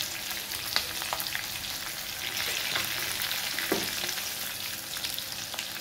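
Asafoetida hits hot oil with garlic and chillies while moong dal is cooked, a steady close sizzle broken by occasional spoon taps and scrapes, with no one talking.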